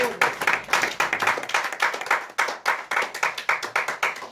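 A church congregation claps in a steady rhythmic beat at a Friday night prayer vigil, dense and close, with faint voices mixed underneath.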